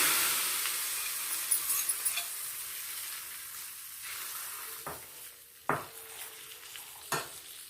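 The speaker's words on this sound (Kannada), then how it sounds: "ಒಗ್ಗರಣೆ ಹಾಕ್ತಾ ಇದ್ದೀನಿ" Oil crackles and sizzles steadily as tempering spices are tossed in for an Udupi-style amaranth leaf curry, with a few sharper pops and clinks of a utensil against the pan.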